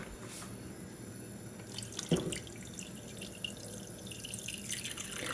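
Tap water pours steadily into a cooking pot holding raw chicken breasts on the stove, a continuous splashing hiss with a brief louder gush partway through, close by and alone.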